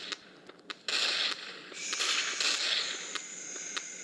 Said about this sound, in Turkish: Bombayı at içeri.